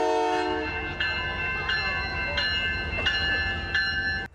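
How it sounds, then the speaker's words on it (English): The CPKC holiday train passes by with its horn sounding, a sustained chord-like blast joined by a repeating rhythmic clank of railcars over the rails, loud and close, ending in a sharp knock. "the Canadian Pacific Kansas City, or CPKC, holiday train is a tradition they look forward to year after year"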